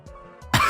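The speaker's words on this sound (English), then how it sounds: "Sorry about the cough again." One abrupt close cough breaks a near-silent indoor pause, preceded by soft breathy throat noises.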